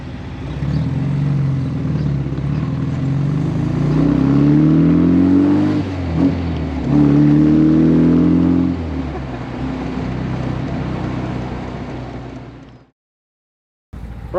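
A 1950s Austin Healey 100M sports car drives steadily at close range, its engine note rising and falling through gear changes with continuous exhaust drone, then cutting off briefly near the end.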